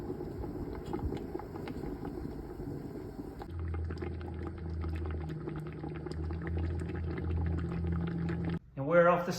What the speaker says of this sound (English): you'll know when it's boiling, the bubbles somewhat have a structure to it